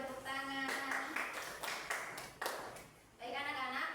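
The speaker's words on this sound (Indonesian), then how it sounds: "Berikan tepuk tangan." A sixth-grade class claps in a series of sharp, evenly spaced bursts. A voice is heard just before the clapping and again just after it.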